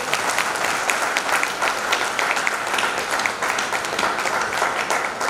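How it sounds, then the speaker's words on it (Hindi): A comedy show audience applauds and claps steadily, a continuous crackle of many hands at moderate level with no talk over it. "ये कोई इसमें ताली बजाने की बात नहीं थी।"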